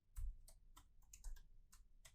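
Typing on a computer keyboard while writing JavaScript in a code editor: eight or so crisp, close key clicks arrive in a quick, irregular burst with no voices.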